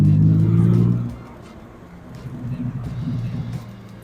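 A 2004 Morgan Roadster with a 3-litre V6 engine revving while driving, a strong close rev that drops off after a second, then a lower burbling engine note under the road rumble.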